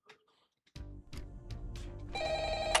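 Telephone ringing in the video game Five Nights at Frickbear's 3, a bright electronic ring that starts after a short pause and builds to a loud, sustained tone with game sounds beneath.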